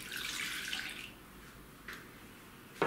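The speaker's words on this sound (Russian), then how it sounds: "В миску наливаем 200 мл теплого молока." Warm milk pours into a bowl in a soft continuous stream that stops after about a second, followed by quiet room tone, a faint splash and a small knock at the end.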